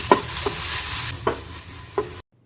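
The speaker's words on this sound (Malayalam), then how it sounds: "1 ടീസ്പൂൺ ഇഞ്ചി വെളുത്തുള്ളി പേസ്റ്റും 1/4 കപ്പ് ക്യാരറ്റ് ഗ്രേറ്റ് ചെയ്തതും ചേർത്ത് വീണ്ടും വഴറ്റാം." Onion, ginger garlic paste and grated carrot sautéing in coconut oil: a soft sizzle under four distinct scrapes of a spatula spaced through the clip, ending abruptly in silence.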